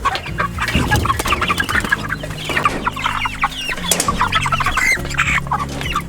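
Chickens kept in a chicken tractor on a permaculture property cluck loudly and continuously, several birds overlapping close by in a busy, restless chorus with no talking.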